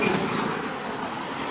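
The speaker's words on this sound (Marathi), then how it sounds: "हायवेवर थांबलोय. बघा कशा गाड्या चालल्यात" Steady, loud traffic roar from cars speeding past on a highway near Mumbai, a continuous broadband rush without breaks or speech.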